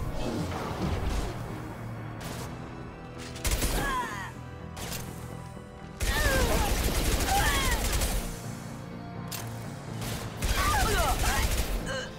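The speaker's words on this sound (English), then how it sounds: "All right, that was a good barrage." Heavy gunfire barrage in the Mass Effect 2 video game: dense bursts of rapid shots and impacts come in several loud waves, with voices speaking between and over the firing.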